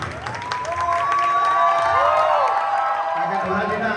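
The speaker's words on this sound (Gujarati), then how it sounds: "આપ સર્વેને વિનંતી એકવાર જોરદાર તાળીઓ પાડો." A crowd applauding and cheering at a cake ceremony for a garba dance class in Dhoraji, loud and sustained, with whoops and a voice over the clapping.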